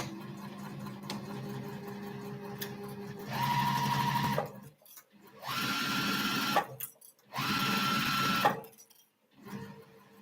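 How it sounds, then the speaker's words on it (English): A Juki sewing machine stitches fabric while the operator sews standing up. It runs in three sustained bursts of steady whirring, each separated by short pauses, close and clear. "Now I have my machine set up so that I can sew standing up."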